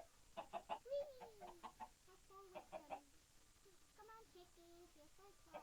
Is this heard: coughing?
no